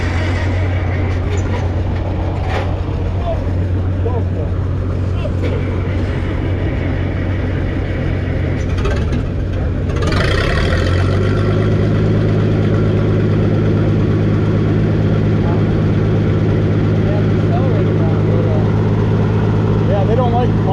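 An antique LP-fueled tractor with no battery at an outdoor auction, its engine rumbling steadily at low throttle and shifting to a deeper, fuller idle partway through, while people talk nearby.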